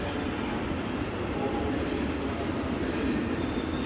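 A steady, loud rumble of a train at Reading Station with continuous broadband rail noise, no breaks, close by.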